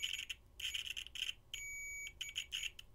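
A handheld multimeter on continuity test gives high, electronic beeps in several short bursts, then one steady tone of about half a second, followed by more quick beeps, close and a little scratchy.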